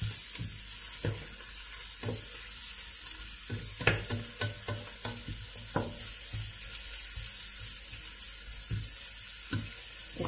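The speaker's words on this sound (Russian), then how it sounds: "И опять все это обжариваем вместе." Carrots and other vegetables fry in a pan with a steady hiss and sizzle, broken by sharp clacks and scrapes as they are stirred, and no one speaks.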